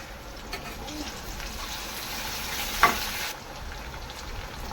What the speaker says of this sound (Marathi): हिरवी मिरची आणि लसूणचं जे जारसर वाटण केलं होतं ते घालून घेऊया आणि छान मसाला तेलामध्ये एक मिनिट परतून घेऊया